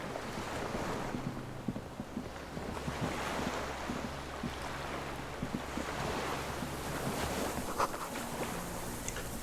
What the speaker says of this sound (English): The skiff is swaying on the waves.